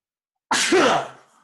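A single sharp sneeze bursts out after a moment of silence, then trails off quickly.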